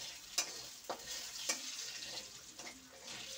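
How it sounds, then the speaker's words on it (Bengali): A bay leaf, a dried chili and panch phoron fry in oil, giving a faint, thin high sizzle broken by a few light crackles and utensil taps, quiet and without speech. "একটা তেজপাতা দিলাম, একটা শুকনো লঙ্কা দিলাম, একটু পাঁচ ফোড়ন দিয়ে এগুলো একটু লাল করে নেব।"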